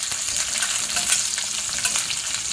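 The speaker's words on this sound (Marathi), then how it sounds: "सर्व असं चांगलं फ्राय करायचं तेलामध्ये" Ginger frying in oil for amla chutney, a bright, steady crackling sizzle close up, with busy popping texture and light stirring, constant in loudness.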